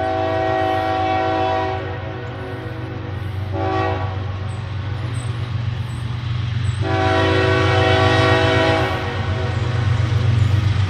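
A CSX eastbound freight train of stacked container cars rolls past close by with a couple of locomotives at the head, a loud steady rumble overlaid by sustained horn blasts that break off and resume.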